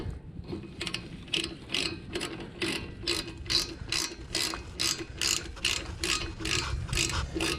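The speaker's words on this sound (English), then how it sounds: "All right, put that wheel back on and get it torqued down." A torque wrench or ratchet tightens the wheel lug nuts on a Ford F150 at the roadside, a quick run of regular metallic clicks repeating steadily and close, no talk.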